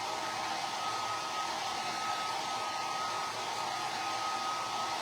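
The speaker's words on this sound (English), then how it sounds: "you can hit this with a hair dryer to dry it on a low setting" A hair dryer on a low setting drying a chalkboard clipboard, blowing with a continuous, even roar that stays at the same loudness throughout, close to the mic with no talk.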